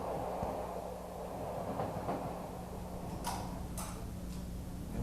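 A train sound effect plays in a stage play: a steady, low rolling rumble with rhythmic clickety-clack ticking and a couple of brief hissing bursts, with no voices.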